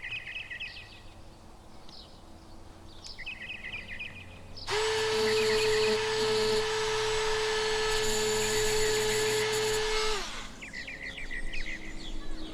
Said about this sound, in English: I'll take a burr bit and remove the remainder of the pillar flange to prep it for drilling